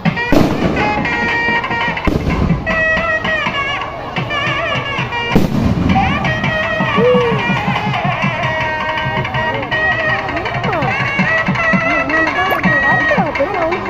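Firecrackers burst repeatedly at a temple festival during Panguni Uthiram celebrations, loud sharp cracks and thumps scattered over a dense, noisy crowd and festival din throughout.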